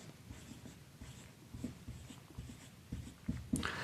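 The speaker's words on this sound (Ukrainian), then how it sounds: "Ми собі малюємо таку чашечку." Pen or pencil scratching on paper while drawing a small cup during a lesson, soft uneven strokes and taps, close and faint, with no talking.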